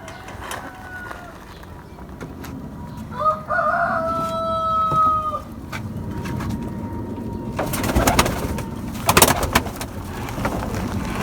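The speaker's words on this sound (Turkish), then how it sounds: "Şimdi kuşlarımızı uçuralım dostlar." Pigeons, young tumbler birds, cooing and calling near a flock being released from a loft, with flapping and rustling bursts as they take off amid ambient noise.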